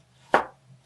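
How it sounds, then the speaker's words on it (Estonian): A single sharp knife chop through a carrot on a cutting board, close and crisp with a quick decay, alone against a faint low hum. "Porgand ka kohe ära hakkida."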